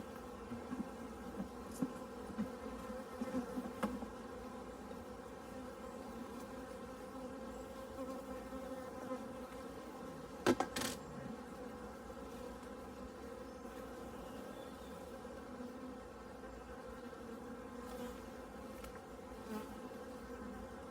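Honeybees drone around an opened hive during a split, a dense, steady buzz close by that holds throughout, with a few louder passes near the listener and no talking.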